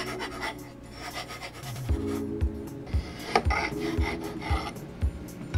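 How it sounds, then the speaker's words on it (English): A hand file rasps burrs off the cut edges of aluminum extrusion for an open-frame mini-ITX PC case, in a series of close, rhythmic scraping strokes about half a second apart. "Just need to clean the edges up a little bit and get rid of these burrs."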